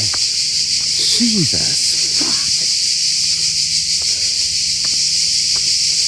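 Deafening crickets shrill in a dense, unbroken high-pitched drone outside an abandoned prison, nearly masking a voice that speaks briefly early on, with a few footsteps.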